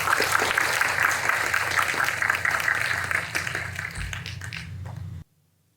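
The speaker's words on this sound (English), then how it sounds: "Please give them a round of applause." A crowd at a university graduation ceremony claps steadily for about five seconds, the applause thinning slightly before stopping abruptly into silence.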